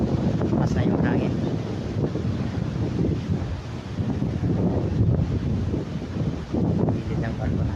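Strong wind buffets a microphone on the open deck of a cruise ship at sea near Victoria, Canada, a steady loud rush with low gusting rumble and faint water wash throughout, no voices.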